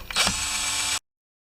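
Ratchet buzzing as it backs bolts out of a Briggs engine sump cover, a single steady mechanical whir close up for about a second before it stops abruptly.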